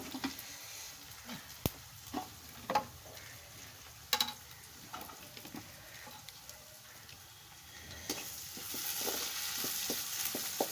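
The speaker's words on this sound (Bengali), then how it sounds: "এটা পেঁয়াজ ভাজছি আর কি" Onions frying in a pan of oil, a steady soft sizzle with intermittent sharp clicks and scraping stirs, growing denser and louder toward the end.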